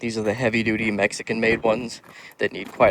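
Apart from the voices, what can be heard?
None of the usual background noises is heard.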